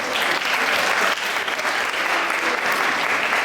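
Dense, loud applause from a high school audience at a hypnosis show during a winter dance, a continuous wash of clapping that fills the whole stretch without pause.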